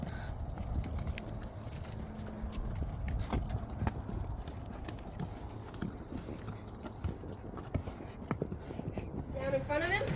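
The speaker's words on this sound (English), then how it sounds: "That's Suzanne, her horse Ken." A horse walks with steady hoof clip-clops on hard ground, close by, running under people talking the whole time.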